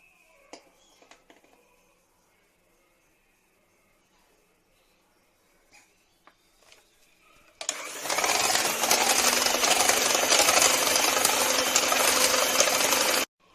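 An electric mixer switches on partway through to whip cream for an eggless rasmalai cake, a loud dense steady whir following a quiet stretch of faint clicks and handling sounds.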